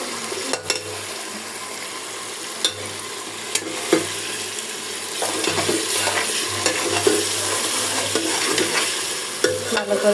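A spoon stirs beef curry in a frying pan with intermittent scraping strokes over a steady low sizzle, close and alone.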